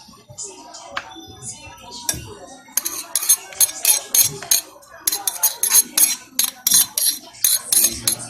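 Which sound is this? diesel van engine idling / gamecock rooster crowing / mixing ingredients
mixing ingredients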